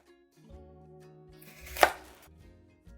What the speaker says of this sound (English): Now I'm going to cut each half in half.